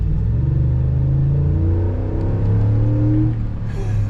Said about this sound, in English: that's mostly intake noise rather than exhaust, but you can still hear the exhaust back there a little bit